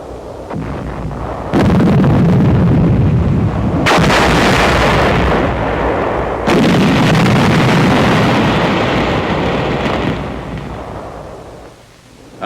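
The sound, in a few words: explosive charge in gasoline can blasting enemy position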